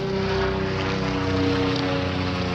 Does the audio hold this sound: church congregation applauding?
no